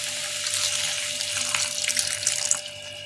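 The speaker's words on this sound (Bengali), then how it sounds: "এবার আমি এর মধ্যে অল্প একটু গরম জল দিয়ে দেব।" Hot water pours into a pan while homemade tofu is being made, giving a close, splashy, continuous trickle that tapers off near the end.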